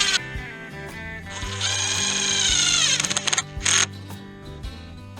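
A power drill whirs up close, pre-drilling brittle cedar laths, revving in a long run and then in short bursts, with some clattering and handling noise between.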